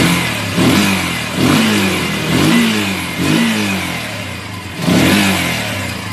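A carburetted motorcycle engine of the TMX155 or Euro 150 type runs smoothly after carburetor tuning, close up and loud, with steady rhythmic throttle blips rising and falling about once a second, no misfires, alone without talk.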